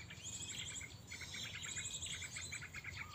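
Small wild birds known as renjak chirping outdoors, a run of quick repeated high tweets and short trills, fairly close and steady over faint background noise.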